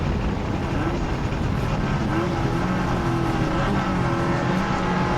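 Race cars in a tuner production class run slowly in a queue behind the safety car, a steady, continuous engine drone with a low rumble and no sharp passes or bursts.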